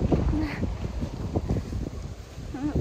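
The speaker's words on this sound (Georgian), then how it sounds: "აი შეხედეთ როგორი ქარია" Strong wind blows through a Tbilisi street, gusty rumbling buffets the microphone while leaves and litter rustle, with faint traffic-like noise and brief distant sounds in the background.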